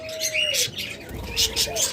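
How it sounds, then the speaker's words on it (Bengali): Several small birds chirp and warble in quick bursts, like budgerigars chattering, close by and moderately loud, with no talking. "দেখুন অসংখ্য বাজবিগার পাখি রয়েছে আমাদের কাছে"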